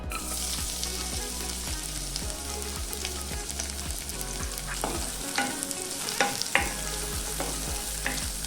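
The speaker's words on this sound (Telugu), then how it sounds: "నెయ్యి కాగిన తర్వాత ఇందులోకి మనం కట్ చేసి ఉంచుకున్న డ్రై ఫ్రూట్స్ వేసి వేయించుకోవాలి." Cashews, almonds, pistachios and dried dates frying in hot ghee for Sheer Kurma, a steady crackling sizzle with repeated scraping stirs and light clinks of a spoon against the pan, close and alone.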